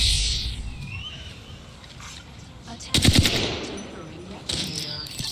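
Gunfire from an Apex Legends match, with a burst of loud, rapid shots in the middle, a later second burst, and game effects around it.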